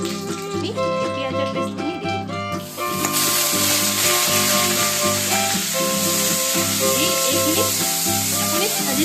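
Oil heats in a karahi for a rajma dish seasoned with coriander, cumin, salt and turmeric. A quieter start gives way after about three seconds to a loud, sustained, close-up sizzle of frying.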